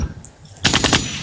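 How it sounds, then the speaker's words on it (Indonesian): A gunfire sound effect plays as a short rapid burst of four or five loud, close shots after a brief quiet lead-in. "Tembak aku Bang Juma, tembak dulu."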